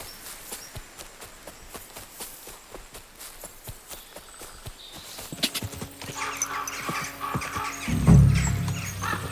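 Steady horse hoofbeats clip-clop at a walking pace in the video game Kingdom Come: Deliverance 2, then grow busier and louder as other rumbling game sounds build.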